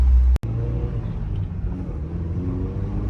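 A car with a freshly fixed manual transmission, fitted with a new reverse lockout plate and short throw shifter, idles in a steady, close, low rumble after a sharp start, with no shifts clearly picked out.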